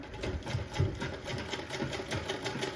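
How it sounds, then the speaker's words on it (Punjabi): Sewing machine stitching folded fabric with a half-inch margin, a steady fast mechanical whirr and needle chatter, close and moderately quiet, with no talk. "ਇੱਥੋਂ ਸਲਾਈ ਤੁਸੀਂ ਧਿਆਨ ਦੇ ਨਾਲ ਲਗਾਉਣੀ ਹੈ ਫੋਲਡ ਕਰਕੇ ਇੱਥੇ"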